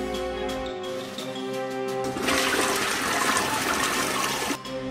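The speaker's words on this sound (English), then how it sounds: "Plunge that toilet. Put your back into it." A clogged toilet is plunged in a video game, with loud close-up gushing and gurgling water that swells into a rushing, flush-like surge partway through, with no speech over it.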